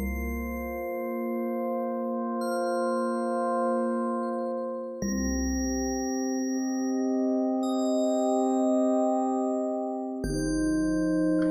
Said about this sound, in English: So I quite like this bell sound,